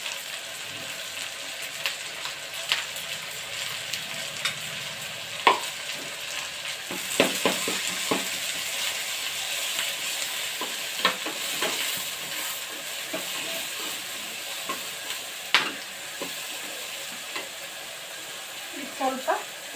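Mustard seeds, cumin, onion and curry leaves frying in a pan for a North Karnataka dish, a steady soft sizzle with scattered pops and crackles, stirred now and then at close range.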